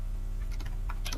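A command is typed on a computer keyboard, a brief cluster of quick light key clicks over a low steady hum, close and fairly faint.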